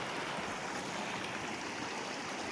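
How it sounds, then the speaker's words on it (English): A silty mountain creek flows steadily along a trail toward Landslide Lake, a dense continuous rush of water close by with no breaks or voices. "Got a nice flowing creek here."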